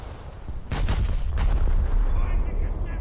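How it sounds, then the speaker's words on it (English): A battleship in a video game firing a full salvo of its 15 cm guns, two heavy booming blasts close together over a constant low rumble, loud and near. "There, you earned yourself a full salvo."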